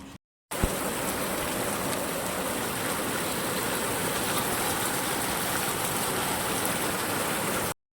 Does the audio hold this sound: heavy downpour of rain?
yes